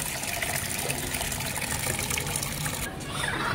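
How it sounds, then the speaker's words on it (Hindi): Water pours steadily from a container for a weak hen, a close, continuous splashing gush that barely changes over a few seconds. "पानी डाल देते हैं यार इसको हम।"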